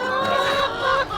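Chickens packed in a secure, air-holed box cluck loudly and close up in a short, busy burst of overlapping calls.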